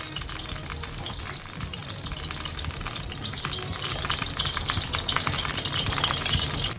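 Batata vada, potato balls dipped in besan batter, frying in hot oil with a steady, dense bubbling hiss that builds slightly louder over several seconds, close and continuous, with no voice.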